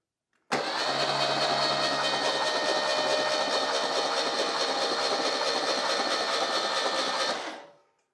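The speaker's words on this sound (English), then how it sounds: "let's crank the engine and see if we can get a mark on this." A PMO induction EFI engine running an Emtron standalone ECU is cranked by its starter, a loud, steady, even whirring drone that holds for about seven seconds before stopping.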